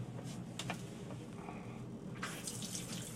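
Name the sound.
pressurized water running from a camper shower tap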